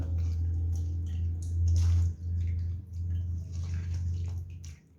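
Water splashes and sloshes steadily as it drains from tamarind through a strainer, with a brief surge partway through.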